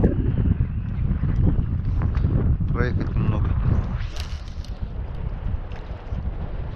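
Wind buffets the microphone on a lake while fishing from a boat in September, a continuous low rumbling roar with gusts, as people talk over it.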